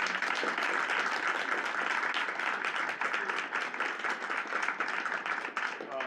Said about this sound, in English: So big round of applause to our boys and girls basketball as well as our cheerleading teams as well.